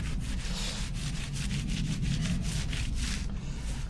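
A Harley motorcycle gets polished by hand, a close, rhythmic rubbing with repeated back-and-forth strokes roughly every quarter second over a steady low rumble, with no voices.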